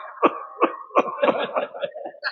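A man imitates an old person's coughing during a devotional kirtan, a rhythmic series of about seven short raspy coughs, close and clear with a quiet hall behind.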